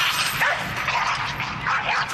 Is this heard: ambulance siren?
no